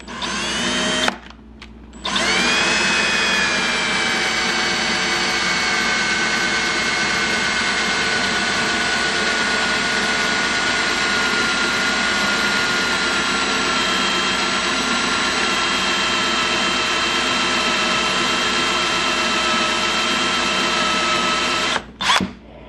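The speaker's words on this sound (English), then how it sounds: "So I got a cobalt drill bit. Let's see if we can drill this out now." A power drill with a cobalt bit drills out a rivet on a 2014 GSXR 750 exhaust canister, running steadily for about twenty seconds with a high, sustained whine, starting and stopping abruptly, close and loud.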